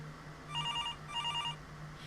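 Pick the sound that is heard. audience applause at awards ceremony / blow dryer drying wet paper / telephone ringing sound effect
telephone ringing sound effect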